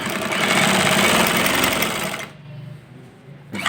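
A sewing machine stitches trousers in a fast, rattling run of needle strokes for about two seconds, then slows and drops to a quieter mechanical hum, close up, with no voice over it.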